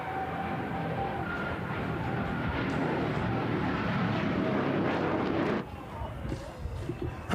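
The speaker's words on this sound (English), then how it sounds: "The throttle is coming up on the jet car." A jet car roars at the start of an air race in Roswell, New Mexico, a loud sustained broadband blast building as the throttle comes up, then dropping abruptly near the end to a quieter rumble.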